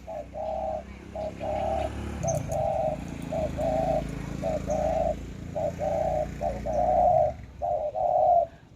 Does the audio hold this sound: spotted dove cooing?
yes